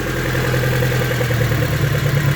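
A car engine idles steadily after being revved, its fast idle controlled by a thermo valve, a close, loud, even hum with a low throbbing pulse and no talking.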